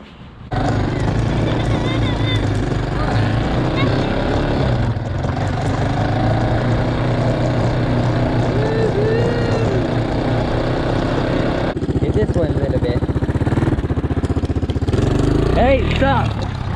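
A small motorized trike engine drones steadily during a ride, a loud buzzing hum like a lawn mower close to the microphone, with people talking over it and brief changes in pitch.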